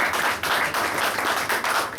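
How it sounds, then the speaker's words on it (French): Steady applause from the audience at an anniversary celebration of the Ndé family in Indonesia, with rhythmic, evenly pulsing bursts of close, loud clapping sustained for about two seconds and no voices. "Donc ça mérite aussi encore des applaudissements."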